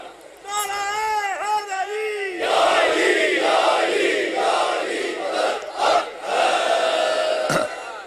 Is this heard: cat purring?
no